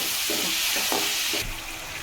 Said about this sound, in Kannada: ಉಪ್ಪು ಟೊಮೊಟೊ ಈರುಳ್ಳಿ ಫ್ರೈ ಆಗೈತೆ ಟೊಮೊಟೊ ಹಾಕ್ತಾ ಇದ್ದೀನಿ